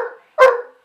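A single sharp dog bark, close and loud, following a brief trailing sound, with no talking.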